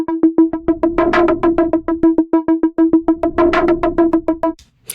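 Cinematic synth arpeggio with rhythmic filter modulation: a steady run of evenly spaced, bright plucked notes that swell and dim in brightness, loud and alone, stopping abruptly near the end.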